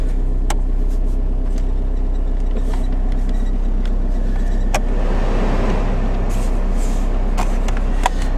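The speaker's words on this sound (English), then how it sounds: "That sounds like variable fan control to me." Steady whooshing airflow and a low hum from a car's heater blower fan with variable fan control, filling the whole stretch evenly, with a few faint clicks and ticks scattered over it and no talk.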